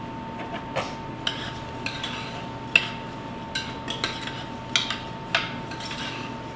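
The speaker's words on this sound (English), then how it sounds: "I'm going to go ahead and add the rice in now." Rice poured into a pan with melted butter for paella gives light scattered ticks and clinks, faint and intermittent, with a steady low hum behind.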